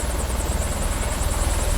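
A helicopter in the film Ex Machina gives a loud, steady, close rotor thrum with rapid rhythmic blade chop and a constant engine whine, heard alone without voices.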